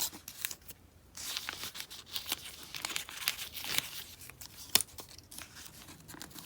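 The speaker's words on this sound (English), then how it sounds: "let's go ahead and take these masks off now" Masks and Post-it tape peeled off paper during art journaling: close, crisp tearing and crinkling rips in quick bursts, with one sharp snap near the end.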